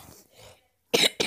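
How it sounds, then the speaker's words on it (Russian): Two sharp, loud coughs from a sick person close to the microphone, following a stretch of quiet talking and a brief silence. "Извините, конечно, за кашель, я приболел."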